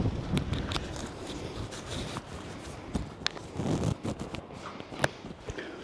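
Wind buffeting a microphone outdoors near an air raid shelter at an old Douglas motorbike factory, a constant rumbling, crackling roar with gusty surges and scattered rustles and clicks, close and loud.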